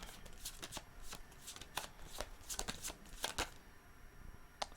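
Tarot cards are shuffled by hand in a series of sharp riffling bursts and soft card slaps, irregular and close, with no talking.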